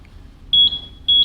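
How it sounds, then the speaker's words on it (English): A Buzzaround LX GB119 mobility scooter sounds its error code: two pairs of high electronic beeps, each beep clear and close, separated by short gaps, with no talking. "if you turn on the scooter after you put the key in the ignition for the first time and it gives you that 5 beep code"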